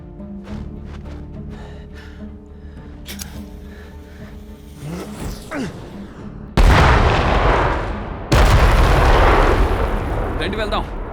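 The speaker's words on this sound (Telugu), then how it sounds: "ఇక్కడ పేలుడు శబ్దం వినిపించింది కదా" Explosions in a WWII war action film: a quieter bed of tonal sound and music gives way to two sudden, loud, rumbling blasts, each sustained for a couple of seconds.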